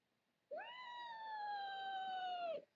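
A single drawn-out cat meow, clear and close, rising briefly then holding steady for about two seconds before stopping.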